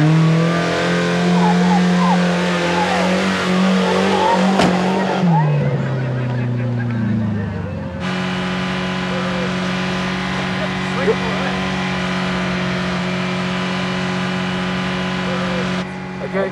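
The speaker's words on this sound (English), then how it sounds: "Come and have a bit of a race around in the car there today." Car engine revving and racing around at a demolition-derby-style event in Kaikohe, with a loud, sustained drone that shifts pitch, then settles into a steady roar, with people talking over it.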